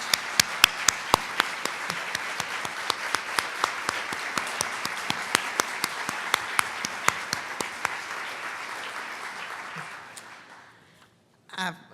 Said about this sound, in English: we're going to thank you with a big, loud clap